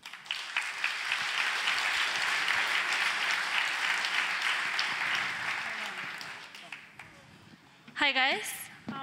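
Audience applause welcoming Paysafe on stage at a raffle event, a steady loud wash of clapping that fades gradually, followed near the end by a brief burst of other sound.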